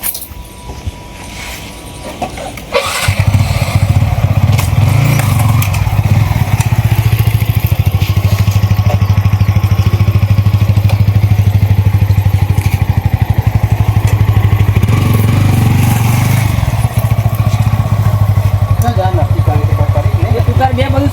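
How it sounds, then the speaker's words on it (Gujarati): A motorcycle engine starts up after a few seconds and then idles steadily with a loud, close, rumbling putter, while people talk over it. "હું વાળી દઉં બાઈક"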